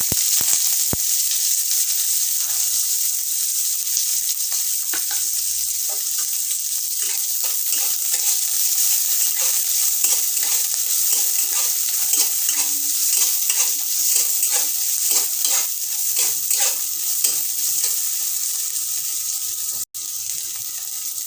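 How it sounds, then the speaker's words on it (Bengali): Panch phoron, whole coriander and chopped onion drop into hot mustard oil, setting off a loud, continuous hiss of frying with a crackling, spitting texture and occasional stirring scrapes, close up, with no voices. "তেল গরম হয়ে গেছে, একটু পাঁচফোড়ন দিয়ে দিচ্ছি, গোটা ধনে দিচ্ছি, পেঁয়াজ কুচানো দিয়ে দিচ্ছি,"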